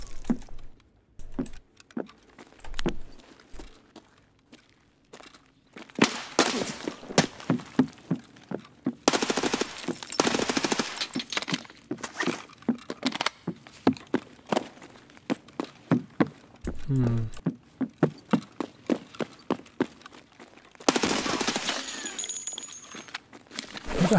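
Gunfire in the shooter game Escape from Tarkov, with bursts of rapid automatic shots and scattered single cracks mixed with footsteps and jangling gear, loud and close, with no voices.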